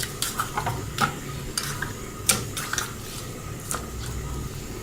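Raw chicken for a honey BBQ recipe is worked by hand into its marinade, giving close, irregular wet squelches and soft slaps with a few sharper clicks, quiet and without talk.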